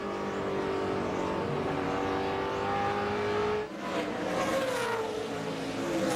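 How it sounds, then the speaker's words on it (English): A NASCAR race car roars loudly as it accelerates out of a corner at New Hampshire, its engine note climbing steadily, with a brief dip and other cars' engines blending in afterward. "he gets on the gas, and the car takes off the corner really good"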